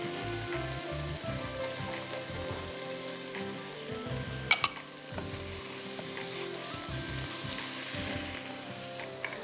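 Carrots stir-fried for chicken chow mein, a steady loud sizzle with scraping stirs and a brief metallic clank partway through.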